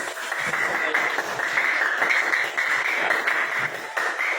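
Students in a classroom applaud their classmates' group presentations, a steady wash of clapping filling all 4 seconds at an even level, with no pauses.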